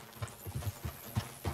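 Horse hooves clip-clop faintly in Red Dead Redemption 2, a soft uneven series of about eight dull thuds at a trotting rhythm over quiet game ambience.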